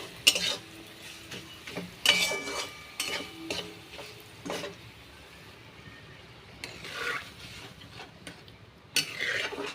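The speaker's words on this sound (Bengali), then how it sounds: "এবার আমি ডালটা দিয়ে দেব" Masoor lentils with jute leaves are stirred into hot tempered oil with dried chillies in a pan, giving soft sizzling and intermittent spoon scrapes and clinks against the pan, fairly quiet.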